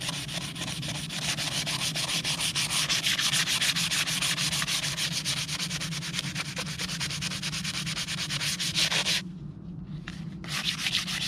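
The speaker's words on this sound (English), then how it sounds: "So what I'm going to do then is just start sanding it down." Rapid back-and-forth rasping of sandpaper on a wooden Gransfors Bruks axe handle, steady and close, with a brief pause near the end before the scratching resumes.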